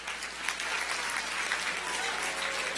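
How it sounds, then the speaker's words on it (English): Children's event audience clapping: brisk, continuous applause from many hands, fairly distant and even in loudness throughout. "Clap your hands, that was good."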